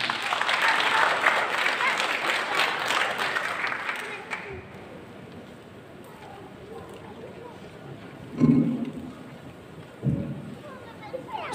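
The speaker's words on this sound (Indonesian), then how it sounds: "Beri tepuk tangannya." Audience applause after a performance at a gathering, a broad burst of clapping in the first few seconds that fades into quieter room noise with scattered louder thumps later.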